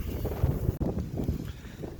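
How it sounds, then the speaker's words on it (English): Wind gusting across a rocky hilltop on Little Round Top at Gettysburg, a steady low rumble of buffeting against the microphone with a brief dropout partway through, heard alone at moderate level. "I apologize because it's a bit windy up here"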